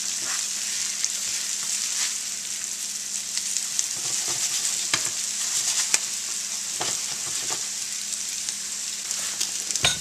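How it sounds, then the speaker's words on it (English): Onions caramelize in a pan with a dense, steady sizzle and crackle, scattered light scrapes and stirs ticking through it, close and even throughout. "I'm starting to flip these onions over. You're starting to get a good caramelization"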